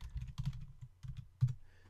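Quick typing on a computer keyboard, close and clear, with irregular bursts of key clicks and one louder keystroke near the end, and no talking.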